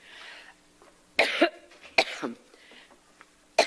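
A woman coughs in a fit of three sharp, loud bursts spread apart, each trailing into rough throat noise, with quieter room sound and a brief word between them.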